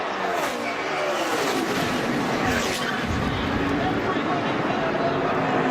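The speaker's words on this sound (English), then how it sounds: "a huge wreck to end this race" NASCAR stock cars roar at racing speed in a televised race ending in a multi-car wreck, a dense, loud, continuous engine wash with tire skid noise and broadcast voices underneath.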